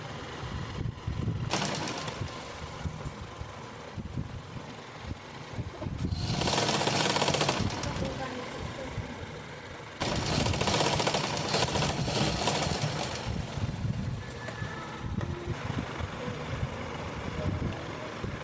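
A sewing machine runs in long, loud, steady bursts while stitching the neckline of a top, with brief pauses between runs and a louder stretch in the middle.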